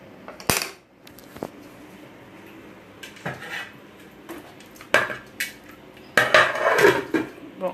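Metal lid clanks down onto a pot of boiling fish broth on the stove, several sharp clatters and knocks of metal cookware spread over a few seconds, close and fairly loud against a quiet kitchen.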